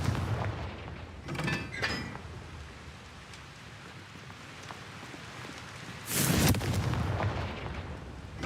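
A Confringo spell goes off in a Harry Potter video game, with a crackling burst early on and then a louder, rushing blast that rolls on and fades, over a steady hissing game background.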